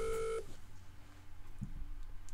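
Short electronic phone-dialing tones on a quiz show as a contestant phones a friend, a brief burst of beeps at the start followed by a quiet line hum and a faint click.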